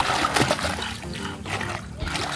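Water splashing and sloshing while a dog is bathed in a basin of mildly warm water, close and irregular, with a person talking at times.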